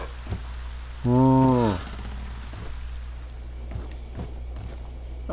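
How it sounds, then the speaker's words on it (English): Steady rain patters outside a sheltered inn in the video game ArcaniA, a soft continuous wash beneath a brief voiced exclamation and some quiet footsteps. "The rain, but it's all nice and sheltered here in the inn."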